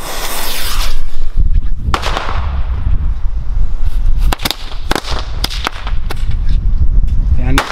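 Rapid string of sharp jumping jack firecracker bangs and crackles, popping irregularly in loud bursts over several seconds outdoors on New Year's Eve.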